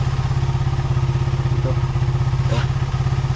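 A small kickstart motorcycle engine idles close by with a fast, steady, even putter, alone without talk.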